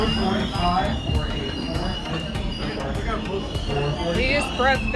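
Passenger train rumbling along the Great Smoky Mountain Railroad on a fall foliage excursion, a steady low rolling roar with wheel squeals and clatter, people chattering nearby throughout.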